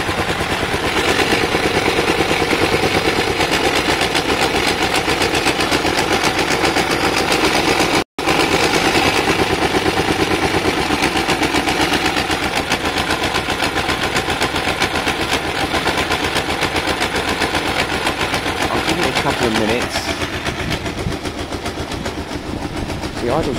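A Kawasaki ER5 motorcycle engine under restoration runs loud and close, a rough rapid rattling roar that holds steady, drops out for an instant, then tapers slightly near the end.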